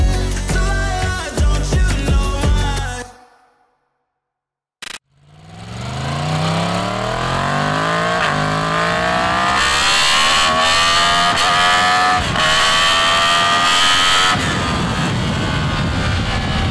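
An MT-10 motorcycle engine starts up on a road after a brief silence and revs, pitch climbing steadily as it accelerates away, loud and close, with music at the very start.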